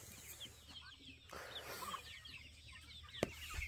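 Free-ranging chickens clucking outdoors, scattered soft calls at a distance and quite faint, with a couple of sharp knocks and rustling, no talking.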